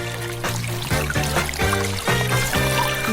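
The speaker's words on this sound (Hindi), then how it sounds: "और अब हमें इसे पानी से भरना है।" Water pouring into a bathtub, a steady loud gushing splash with a rhythmic bubbling pulse, heard close and alone.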